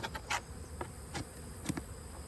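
Faint buzzing of honeybees flying past at a hive, with brief louder passes standing out over a quiet steady background.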